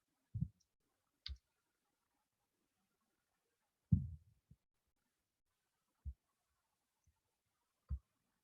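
Mouse clicks from a computer during a JavaScript coding session, sounding as a few sparse, sharp, isolated taps spaced irregularly over a quiet background.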